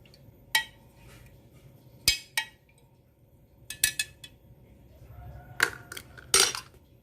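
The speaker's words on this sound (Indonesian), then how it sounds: "Kita aduk sampai larut" A spoon stirring sugar into water inside a glass jar makes several sharp, separate clinks against the sides, close and fairly crisp, spaced irregularly with quiet gaps between.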